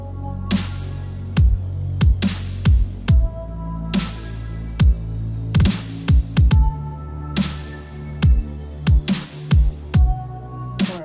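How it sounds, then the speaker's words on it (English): A drum loop with a sustained synth pad loop, made in FL Studio, plays alone: punchy kick hits and sharp snare and hi-hat strikes repeat in a steady rhythm over a held tonal pad. "I made like just a drum loop to show you guys this, and I'm actually going to throw in a pad loop"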